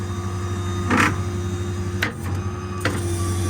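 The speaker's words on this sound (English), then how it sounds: "Hydraulic outriggers." Hydraulic outriggers on a 2013 Ford F-550 diesel 4x4 crane truck with a Stellar 7621 crane, a steady loud mechanical hum and whine with several brief hissing bursts, no talk.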